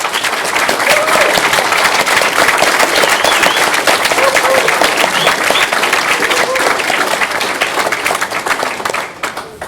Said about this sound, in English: give them all a great big round of applause